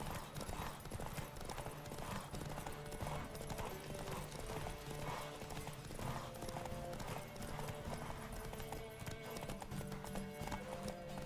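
A horse gallops in The Witcher 3 video game, steady rhythmic hoofbeats running continuously at moderate distance, with occasional faint sounds layered over them.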